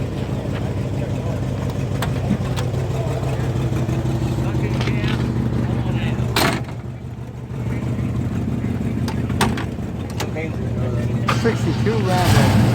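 A 1962 Rambler Classic with a 409 engine and 4-speed idles with a low, steady burbling rumble close by, a few brief clicks and knocks over it, with people talking nearby.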